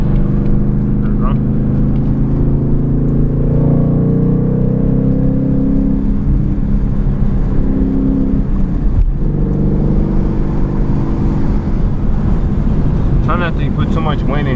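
A 2020 Ford Mustang 5.0 with a muffler delete cruising in fourth gear at night, a loud, deep, continuous engine drone with a brief dip and shift midway, heard from inside the car with someone talking over it.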